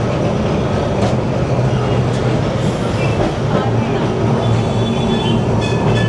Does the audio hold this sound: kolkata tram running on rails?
yes